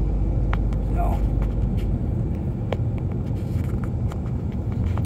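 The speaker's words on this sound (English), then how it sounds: "we're driving up to Portland Street in Dartmouth" A car driving through Dartmouth during Hurricane Fiona, with a constant low road and wind rumble filling the cabin and scattered faint knocks and ticks over it.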